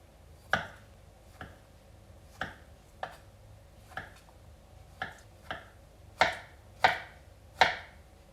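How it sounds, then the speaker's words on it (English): A kitchen knife slices takuan, yellow pickled daikon radish, into quarter-inch sticks on a cutting board for sushi hand rolls. About a dozen crisp, close knife chops land at a steady, unhurried pace with nobody talking, and the last few strokes are louder. "Alright, now let's cut our takuan. And we're just going to cut this into sticks that are about 1/4 inch thick."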